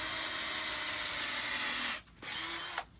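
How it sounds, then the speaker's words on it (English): A cordless drill bores into a log to make a center hole, running loud and steady with a whining motor for about two seconds, then stopping briefly, then whirring again before cutting off near the end. "we'll proceed right now with my cordless drill"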